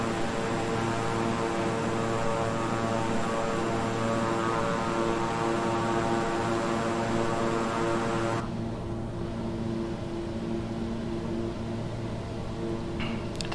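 Simulated Beechcraft King Air 350i twin turboprop cruising in Microsoft Flight Simulator, a loud steady engine drone with propeller hum and no voice over it.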